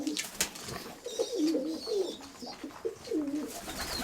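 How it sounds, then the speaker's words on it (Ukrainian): Domestic pigeons in a loft cooing, soft repeated throaty coos from several birds close by, with faint rustling in the background. "Зараз покажу, які голубенята."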